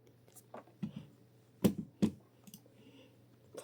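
A new computer keyboard and mouse click in a series of crisp, close taps, irregular and sparse, with a few sharper louder clicks among them over a faint steady hum.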